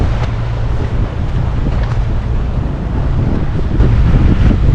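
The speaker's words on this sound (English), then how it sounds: "Today it's very windy" Strong wind buffets the microphone on Voutoumi beach on Antipaxos, Greece, a loud continuous rumbling roar with waves washing underneath throughout.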